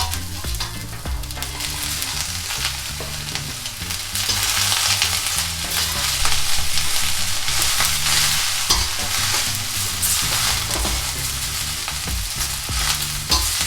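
Vegetarian Indo-Chinese noodles sizzle steadily in a hot pan while being stirred and tossed, a loud continuous frying hiss with scraping and clattering throughout, no voices.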